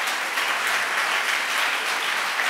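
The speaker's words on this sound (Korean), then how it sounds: "얘네들 박수 한번 쳐주시길 바래요" A church congregation applauding during a sermon service, steady dense clapping from many hands throughout, close and fairly loud with no pauses.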